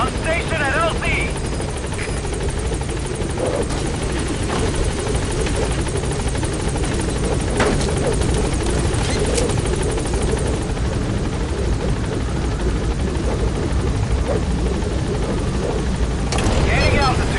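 Helicopter rotor thumping steadily throughout as the B-Quad gunship hovers at a landing zone in Metal Gear V, a constant loud drone with a burst of noise near the end, with a radio voice talking over it.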